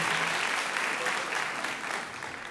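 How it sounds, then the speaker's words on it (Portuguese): A television studio audience claps for a night-time talk show, a dense, steady wash of applause that stays loud and close throughout before easing off slightly near the end. "Obrigado pelas palmas, ó."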